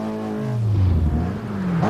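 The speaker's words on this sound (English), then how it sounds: "It's got an awful lot of power, makes a disproportionately loud amount of noise" Fiat Abarth 1000 Berlina Corsa racing saloon, a converted 1966 Fiat 600D, its small engine revving hard and loud nearby, pitch dropping then climbing again in a single sweeping pull.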